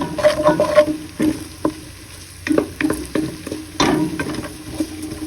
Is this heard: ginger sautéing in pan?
yes